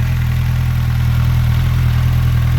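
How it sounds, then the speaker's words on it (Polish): A 2008 Suzuki Bandit 1250 motorcycle engine idles steadily and loudly close by, a low even throbbing hum with no talking. "Motor, słuchajcie, bardzo ładnie chodzi."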